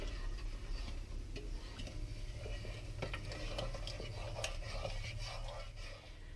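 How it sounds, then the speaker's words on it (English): Sugar syrup being stirred in a pot, with steady scraping and light clinks of a utensil against the pot over a constant low hum, close and moderately quiet. "Now I'm going to mix this consistently until the sugar dissolves."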